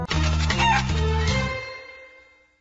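A cartoon chicken clucks in a Paw Patrol episode, a quick loud run of several close clucks that fades out over the last second, heard alone.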